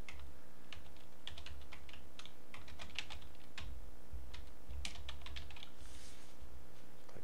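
Steady typing on a computer keyboard while entering a song name in N-Track Studio 6 music software, a quick run of light, close key clicks with brief pauses, heard alone without talk.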